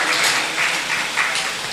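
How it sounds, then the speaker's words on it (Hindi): Applause welcoming a guru at an ashram gathering, a steady wash of many hands clapping with no voices. "तो आइए गुरुजी, बहुत सुंदर तालियों के साथ गुरुजी का स्वागत।"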